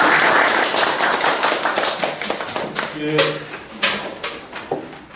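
A seminar audience in Korea gives a lecturer a round of applause, a dense patter of clapping with sharp individual claps standing out and talk mixed in, continuing for several seconds.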